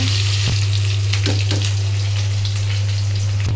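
Loud, steady sizzle of onions and green chilies frying in hot oil in a wok after rohu fish was fried, with a few stirring scrapes and a low hum beneath, no talking.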